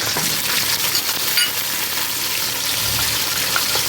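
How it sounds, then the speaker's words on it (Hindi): Browned onion with ginger-garlic paste, green chili paste, whole garam masala and spices sizzles and fries in a pan, a close, steady crackling hiss with occasional stirring and no speech. "इसको अच्छी तरह भून लेंगे"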